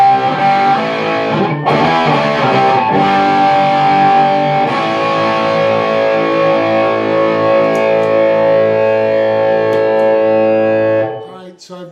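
Distorted electric guitar plays part of a riff with echo effects on. One loud, sustained chord rings out under heavy echo and fades away near the end.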